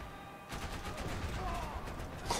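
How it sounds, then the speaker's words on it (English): Gunfire in the video game Max Payne 3, multiplayer match at the Sao Paulo bus depot, starting abruptly as a burst of rapid shots over a steady loud mix of game noise and faint voice. "Someone's shooting me."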